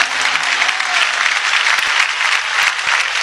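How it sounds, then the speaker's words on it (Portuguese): A church congregation claps together in a dense, steady wash of applause, loud and continuous throughout with no pauses. "Batam as palmas para Jesus."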